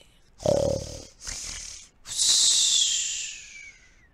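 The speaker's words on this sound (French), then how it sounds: "Il s'approcha et entendit les ronflements de ses congénères." Animals snoring under snow inside a mitten, rendered as exaggerated snorts, wheezy whistles and a long hissing breath in three loud bursts with no talk.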